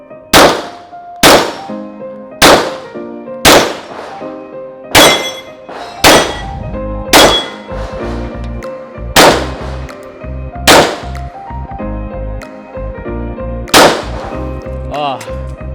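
Glock 45 pistol firing at steel targets on a range: about a dozen sharp, loud shots at a steady pace, each followed by a ringing metallic clang from the struck plate.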